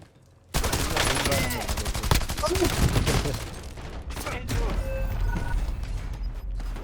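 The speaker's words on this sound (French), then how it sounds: "J'ai suivi les tirs!" Gunfire in the battle royale video game Call of Duty: Warzone Resurgence, a close, loud run of rapid shots and clattering weapon mechanics continuing for several seconds without a break.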